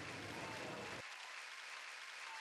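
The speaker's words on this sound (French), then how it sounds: "La foule célébra ce grand nettoyage et acclama Océane" A crowd applauds and cheers in celebration, a dense wash of clapping that runs throughout, fuller at the start and thinning slightly after the first second.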